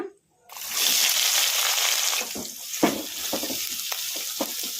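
Onions hit hot tempering oil over a medium flame with a loud, steady sizzle that continues throughout, joined by a few sharp scraping stirs near the end.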